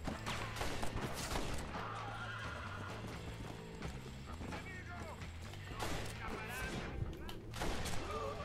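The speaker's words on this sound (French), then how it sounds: "Des coups de feu là-bas." Gunfire rings out in Red Dead Redemption, distant shots set among horse hooves clip-clopping, neighing and in-game voices, with a few sharp cracks scattered across the scene.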